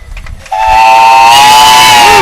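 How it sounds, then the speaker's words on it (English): The whistle of Kitten steam engine number 197, built in 1912, blasts loud and close at a town anniversary parade, a sustained steady shriek that follows a short stretch of crowd noise. "Kitten steam engine number 197, built in 1912."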